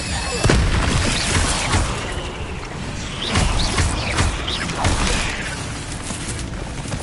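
Incendio fire spell cast in Hogwarts Legacy, a sharp whooshing burst near the start followed by several softer booming flares over a rumbling, busy game background.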